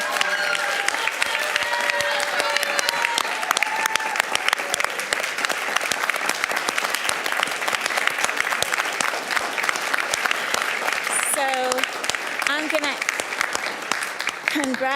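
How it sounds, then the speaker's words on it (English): An audience at a school district board meeting applauds students and teachers, giving sustained, dense clapping that stays steady throughout, with a few brief voices and whoops near the end. "let's give these students and their teachers a round of applause"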